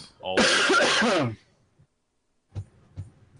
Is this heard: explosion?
no